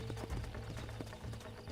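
Horse hooves clip-clop steadily on the ground in the Red Dead game, a brisk rhythmic trot heard close over a low ambient bed with no talking.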